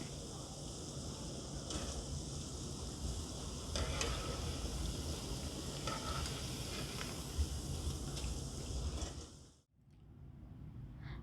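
Marinated chicken pieces frying until crispy in hot oil, a steady dense sizzle and bubbling that carries on evenly, with faint stirring clinks, then cuts out briefly near the end before resuming.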